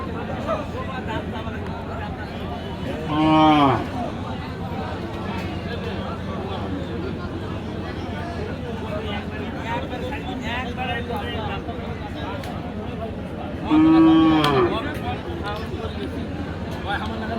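A cow moos twice, each a loud drawn-out call several seconds apart, at a busy cattle market in Aftabganj, Dinajpur, over constant crowd babble and nearby talk.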